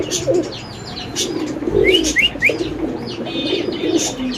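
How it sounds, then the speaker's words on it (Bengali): A pair of Bombay pigeons coo softly and close by in a pigeon market, with low throaty coos and a few brief chirps over a busy background. "তো এখানে আছে আরেক জোড়া বোম্বাই কবুতর"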